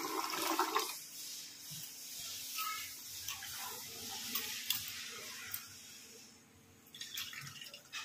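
Water poured into a cooking pot on a home stove while making a family-style recipe, a brief splashing pour near the mic that fades to quieter bubbling and faint kitchen clatter, with no talk.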